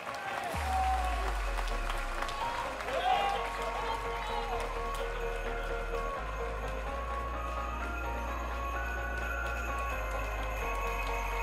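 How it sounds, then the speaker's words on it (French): At an outdoor draft horse show featuring Auxois, Ardennais and Trait du Nord breeds, a crowd gives steady, moderately distant applause that holds for over ten seconds, with a low hum and a brief voice underneath. "Encore des applaudissements pour l'Auxois, l'Ardennais et le Trait du Nord."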